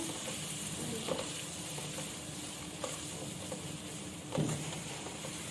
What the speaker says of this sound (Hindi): इसको भी थोड़ा भून लेंगे प्याज के साथ।